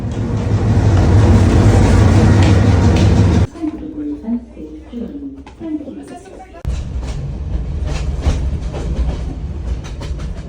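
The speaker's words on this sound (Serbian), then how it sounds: "Za koji minut ukrcat ćemo se na najpoznatiji voz Šrilanke." A passenger train on the Ella to Kandy line in Sri Lanka: a loud, steady rumble of wheels and engine, then a sudden drop to quieter interior sounds and clatter before the rolling noise returns at a moderate level.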